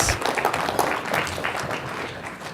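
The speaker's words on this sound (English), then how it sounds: "So let's give them also a round of applause for being here together with us." Applause from a conference audience welcoming guests, a loud, close burst of mixed clapping and crowd noise that gradually thins and fades toward the end.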